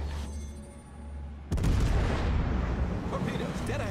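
Incoming high-explosive shell fire in a World of Warships battle: a heavy boom hits at once and rolls into a loud, dense rumble of bursts that holds steady over a low engine drone.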